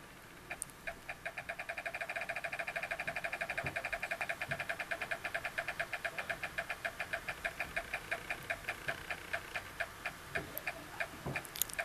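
A Wheel of Fortune wheel in the Sega CD game spins with a rapid, steady ticking that runs for about twelve seconds, clicking evenly and loudly with no voices over it.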